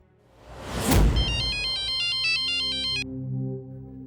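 A phone ringtone sounds in a tense crime-drama scene: a burst of noise, then a bright repeating electronic melody that loops for a few seconds before cutting off, with a low musical drone continuing beneath.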